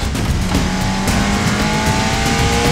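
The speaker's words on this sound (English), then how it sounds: "It buzzes your foot off, but man, does that engine pull and pull and pull and pull!" A BMW M3 Competition engine accelerates hard from inside the car, a loud continuous climbing drone with rising tones and tire noise, heard close and alone.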